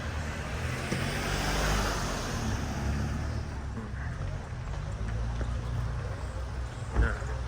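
A car passes on a road in Griffith Park, a steady broadband whoosh of tyres and engine that swells and slowly fades, with outdoor ambience and a brief knock near the end.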